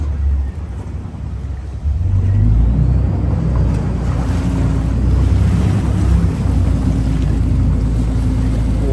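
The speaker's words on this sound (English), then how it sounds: "On the water bus, goes all around Venice." A Venice water bus, the vaporetto, motoring along the Grand Canal, with a steady low engine drone and wind buffeting the microphone. The drone swells louder after the first couple of seconds and continues without a break.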